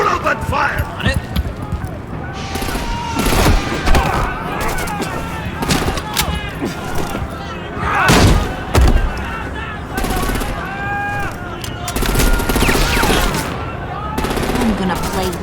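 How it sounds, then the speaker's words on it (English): Gunfire in the Batman: The Enemy Within video game, bursts of shots scattered among shouting voices and music, loud and close, with heavier impacts near the middle. "We'll open fire on it!"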